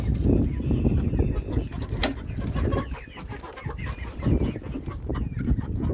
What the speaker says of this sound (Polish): teraz jesteśmy przy otwieraniu kurczaków, naszych kurczaków